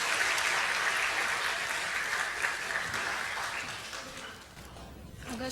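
A church congregation gives steady, full applause to welcome a deaconess to the front. The clapping stays dense and even, then thins and fades toward the end.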